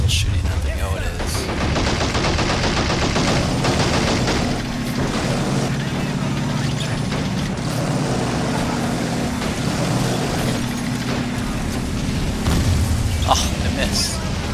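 Men of War Assault Squad 2 battle on a town map: dense, continuous gunfire and booming explosions with rattling bursts, loud throughout under occasional voices.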